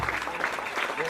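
A French-speaking church congregation applauding and cheering for the Lord, a brief burst of dense clapping from the crowd with voices mixed in.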